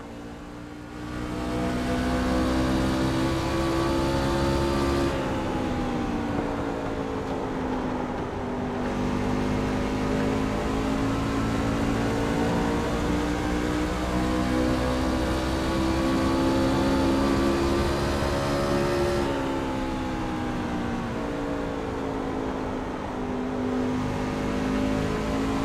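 Onboard race car engine in the iRacing sim at the Lucas Oil 125, a loud, steady high-revving drone with gear shifts and pitch dips around the fifth and twentieth seconds, running continuously with no voices.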